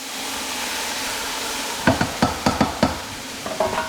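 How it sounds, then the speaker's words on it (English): Beef and onion for a Guinness steak stew sizzling in a pot over a steady background hiss, then a quick run of about six scraping stirs followed by a few softer strokes near the end. "Onion and the beef. You can hear that. Give that a stir through."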